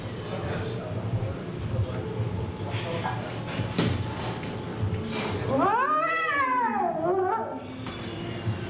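Talk gives way to a single drawn-out cat meow that rises and falls, fairly loud and near, in an old radio comedy.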